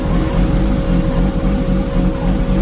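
A 1989 BMW E30 engine running on its first start in a year after a manual transmission swap, a loud, steady low idle rumble with no voices.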